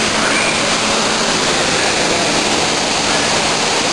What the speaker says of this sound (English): Is it the top of the waterfall?